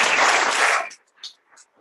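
Audience applause at a book launch in Winnipeg for the fortieth anniversary of In Search of April Raintree: a dense burst of clapping for about a second that cuts off abruptly, followed by scattered faint sounds.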